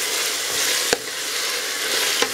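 Meat and chickpea stew with tomato paste fries steadily in a pan, a dense continuous sizzle broken by a few sharp clicks of a spoon stirring against the pot.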